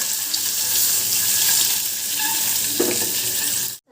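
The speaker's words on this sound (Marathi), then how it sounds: "हे दोन तीन मिनटं परतून" Egg-curry masala with salt and red chili powder is sautéed in a kadhai, a close, steady hiss of sizzling with a brief stir or scrape near the end before it cuts off.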